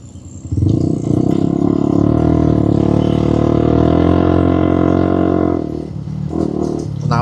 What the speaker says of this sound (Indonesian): Knalpotnya beledak ya